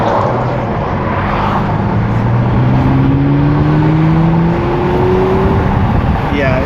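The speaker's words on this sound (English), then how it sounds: "Yeah, it sounds like a sports car." A car engine accelerates with a sporty sound, heard from inside the cabin with the front windows down, a rising engine tone climbing steadily over a loud, constant road and wind roar.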